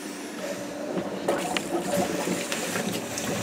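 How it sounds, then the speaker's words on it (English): Water rushing through a garden hose after the valve is opened to prime a boiler pump, a steady close hiss and gurgle with faint voice activity underneath. "turn on the water valve,"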